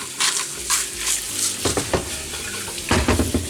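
Eggs with spinach frying in a pan, with a light sizzle under repeated scraping and stirring of a utensil against the pan, close and fairly busy.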